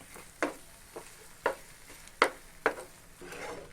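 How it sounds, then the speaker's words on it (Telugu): Ladle scraping through papaya halwa as powdered jaggery is mixed in, a few distinct scrapes and knocks against the pan spaced about half a second apart over a soft background hiss, close and moderately loud. "ఇందులో మనం పొడి చేసి పెట్టుకున్న అరకప్పు బెల్లాన్ని ఇందులో వేసి కలుపుకోవాలి"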